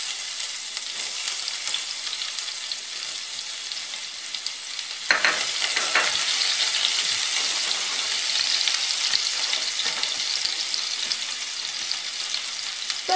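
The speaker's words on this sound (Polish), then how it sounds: "I na rozgrzany wrzucam najpierw selera naciowego." Celery stalks tossed into hot oil in a pan on a hot burner, a dense steady sizzle with a sharper burst of crackling and stirring partway through, continuing loud and close.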